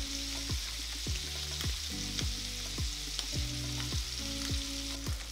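Wild duck breast (magret), seasoned with pepper and piment d'Espelette, searing in a hot pan with a continuous crackling sizzle and repeated light tapping of a utensil, and nobody speaking.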